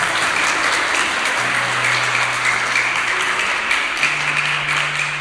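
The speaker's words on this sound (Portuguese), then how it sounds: "Então vamos aplaudir Jesus, começar felizes" A church congregation applauds steadily and warmly throughout, a dense sustained wash of clapping with a faint low tone underneath.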